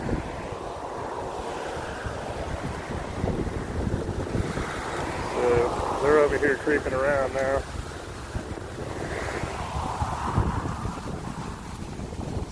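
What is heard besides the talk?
strong wind blowing outdoors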